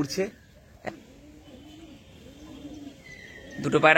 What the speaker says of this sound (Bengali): তো দুটো পায়রা উড়িয়েছি আপাতত, দুটো পায়রা